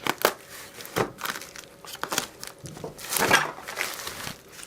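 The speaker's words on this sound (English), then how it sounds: "Anyhow, let's get this package open. Cut from under here." Plastic and paper packaging around a knife from the Canadian Knife Company crinkles and crackles up close as it is cut open and unwrapped, in irregular bursts of rustling and tearing without speech.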